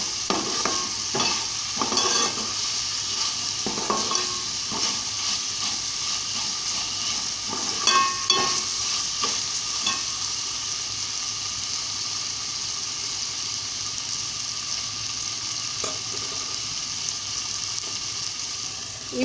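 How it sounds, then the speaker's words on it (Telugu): Ginger garlic paste fries in a pan for a cowpea curry. A steady sizzle runs throughout, with several close scraping stirs early on and a few more midway. "ఇప్పుడు ఈ పచ్చి వాసన పోయేంత వరకు అల్లం వెల్లుల్లిపాయలు వేయించుకోవాలి."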